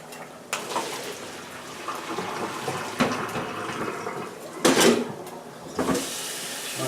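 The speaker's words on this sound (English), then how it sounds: "I'm going to go ahead and put those through the strainer." Cooked lasagna noodles and their hot water are poured into a strainer, making a few short bursts of splashing and gushing liquid over a softer continuous trickle.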